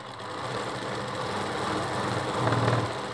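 Sewing machine stitching the magji trim on a Rajputi dress, a steady mechanical whir that runs throughout and swells slightly louder near the end.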